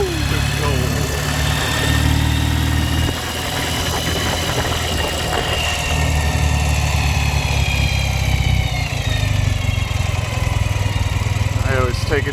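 Engine of a 2007 Ural Patrol sidecar motorcycle running close by, a steady throbbing drone that rises and falls slightly as the rider moves along, with wind noise over it.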